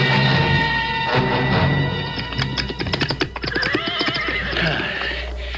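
Horses in a radio-drama western neigh and whinny loudly, mixed with clip-clopping hooves and rustling saddle noises, all heard up close without speech.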